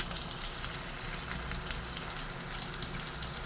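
Small onions sauté in oil with curry leaves in a pan for an onion tamarind curry, a steady, close, even sizzle running unbroken throughout with no voices.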